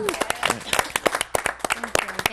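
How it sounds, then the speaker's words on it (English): An audience at a Seattle event applauds someone with scattered, uneven claps, some crisp and close, while a voice talks over the clapping. "Can we get a round of applause?"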